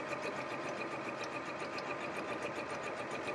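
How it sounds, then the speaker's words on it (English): An Elna 560 sewing machine runs smoothly and steadily through fabric, a close, even, continuous whir with no voices. "Such a smooth running machine."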